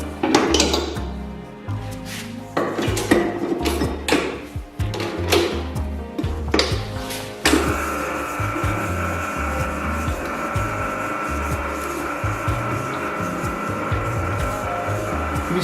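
An electric bakery mixer beats butter and sugar in a bowl for chocolate Easter biscuits. Clanks and knocks of the bowl being fitted come first, then the motor settles into a steady, even whirr.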